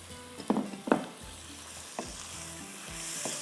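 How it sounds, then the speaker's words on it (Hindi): Chicken being bhuna-fried with spices sizzles softly in a pan, with several scraping stirs up front, then a quieter, continuous frying hiss. "पहले चिकन को थोड़ा सा भून लेती हूँ"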